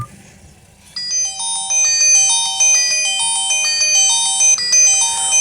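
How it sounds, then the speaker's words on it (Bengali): A Jio J12 mobile phone plays its ringtone, a bright, repeating electronic melody of clean beeping tones that starts after a brief quiet moment and rings loud and steady to the end, with no talking. "প্রোফাইলের যে রিংটোনের সাউন্ড এটা কিন্তু একটু শুনবো যে ফোনটির রিংটোনের সাউন্ড কেমন"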